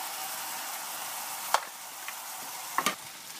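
Onion and spices frying in a pan as the base for a watermelon sauce, a steady soft sizzle broken by two brief clinks of a utensil, close and fairly quiet.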